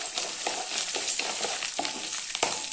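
Dal, peanuts and cashews fry together in oil for lemon rice, a dense, even sizzle with light stirring taps recurring every half second or so.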